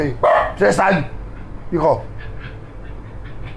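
A dog barks several times in short loud bursts, close by, with a person speaking sharply over it during a home live stream.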